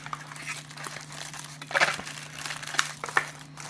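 Plastic packaging of a Marvel Legends Iron Spider action figure crinkles and tears close up, in scattered sharp rustles and crackles with a couple of louder rips.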